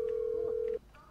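A telephone ringing unanswered in a mafia heist video game, a single steady electronic tone holding for most of a second then cutting off, over faint background game sounds.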